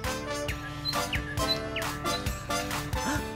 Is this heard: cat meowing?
no